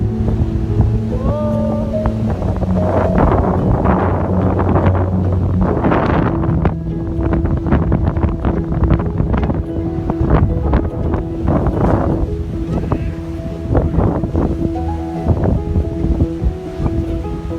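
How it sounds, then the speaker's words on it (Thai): Strong seaside wind after rain buffets the microphone in a loud, continuous roar with gusty swells, while a faint steady tonal hum sits underneath; no one speaks. "แรงลมแรงมากเลย"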